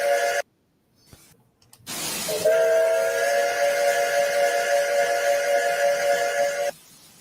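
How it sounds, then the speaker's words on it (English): After a brief hiss of steam, a steam whistle blows a single loud, sustained blast for about four seconds before cutting off. "Whistle number 3 sounds like this."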